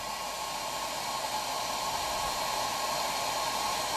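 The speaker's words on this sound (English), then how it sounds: "So the best way to warm it up, I found, is hairdryer." A hair dryer blows continuously on a Sony PCM decoder, with a steady whooshing hiss and a faint motor whine, close by and unchanging.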